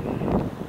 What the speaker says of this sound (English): it's kind of windy rainy here